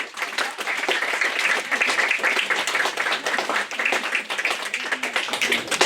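Warm, sustained applause from an audience welcoming two speakers, Noga and Lana, at an event for young Israeli, Palestinian and American women; dense, steady clapping fills all six seconds with no talking over it.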